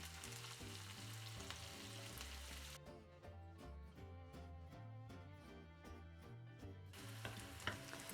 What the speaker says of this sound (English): And then we fry the onions until translucent.